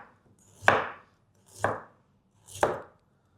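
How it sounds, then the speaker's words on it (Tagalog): Knife cutting fresh ginger lengthwise on a board: three sharp, close chops spaced about a second apart, each with a short ringing tail, in a quiet kitchen with no talk. "hiwain natin itong ating luya ng medyo pahaba"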